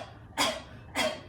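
Two sharp, breathy forced exhalations pumped from the abdomen during a yoga breathing exercise, imitating a cough, spaced about half a second apart and fairly close, with no talking.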